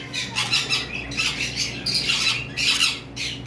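Harsh squawks from a DNA-tested bonded breeding pair of pet birds, five years old, in repeated loud bursts close by with no talking.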